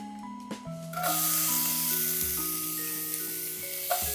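Onions drop into oil and burst into a bright hiss that then settles into a steady sizzle, with faint background tones and light clinks, and no one talking.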